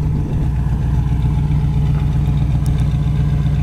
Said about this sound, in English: Dual exhaust sounds really good.